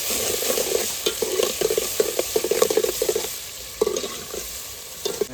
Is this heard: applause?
no